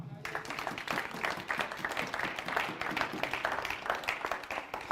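Church congregation breaking into sustained applause, a thick continuous roll of many hands clapping that starts abruptly and carries on evenly, with voices mixed in.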